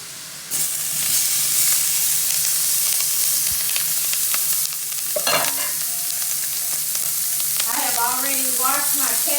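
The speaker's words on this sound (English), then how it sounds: "I'm going to go ahead on and add my onions and peppers to this skillet." Onions and peppers hit hot bacon grease in a skillet, bursting into a loud, steady sizzle that runs nearly continuously, with clatter and stirring as the pan cooks.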